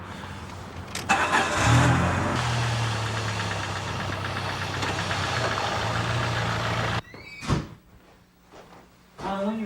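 A car's engine starts and revs, then pulls away, loud and close through most of the stretch and cutting off near the end, with some voice mixed in.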